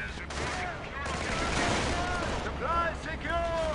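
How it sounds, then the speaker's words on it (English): A rocket artillery barrage in a strategy video game rumbles and crackles with dense overlapping blasts under steady commentary talk. "Such a powerful rocket barrage, so devastating, just wipes out that off-map."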